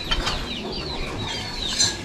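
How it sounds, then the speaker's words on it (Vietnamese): A chicken clucks in a short burst of several quick, close calls over a slightly noisy outdoor background. "Dạ, cái gà."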